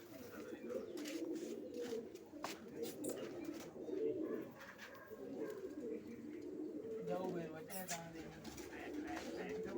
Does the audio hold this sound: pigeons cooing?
yes